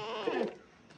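Goats bleat once at a mini zoo, a single wavering call near the microphone that fades into quiet farmyard background.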